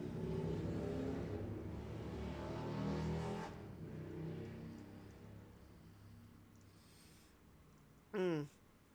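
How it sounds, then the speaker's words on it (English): A loud car engine revs nearby, a broad low rumble that swells and surges over several seconds before easing off, with a short burst of voice near the end. "whoever's car is that loud"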